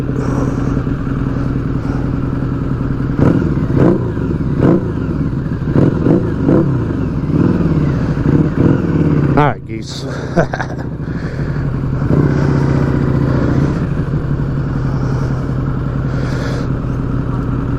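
A motorcycle engine rumbles and revs nearby, with clattering and a short spoken remark over the steady motor noise.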